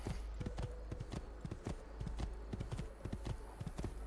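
Horse hooves clip-clop in a quick, steady rhythm in the video game Assassin's Creed II, a continuous trotting gait heard fairly faintly with a low background hum.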